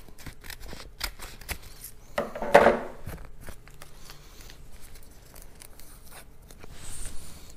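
Vinyl being cut by hand for a custom cookie jar craft, heard as a series of small clicking snips and scratchy scrapes close by, with one louder rasping cut midway and no talking.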